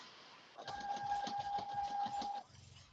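A sewing machine stitches through two layers of tunic fabric in a steady, rapid mechanical run of needle strokes lasting under two seconds, with a faint whine, then stops.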